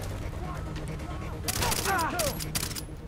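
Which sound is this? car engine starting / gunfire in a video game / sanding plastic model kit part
gunfire in a video game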